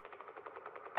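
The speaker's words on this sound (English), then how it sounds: "That was a motorboat's propeller failing." A motorboat's propeller failing in Kentucky Route Zero gives a rapid, evenly pulsing mechanical sputter that churns steadily at moderate level, ending with a sharper clank.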